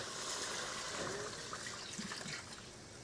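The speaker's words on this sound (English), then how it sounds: "So we are pouring the rest of the coconut milk" Coconut milk pouring steadily into a cooking pot, a continuous soft liquid rush and trickle heard close up with no talking.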